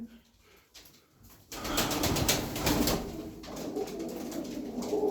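Several Hünkari pigeons coo softly at close range, with shuffling and faint movement noise around them.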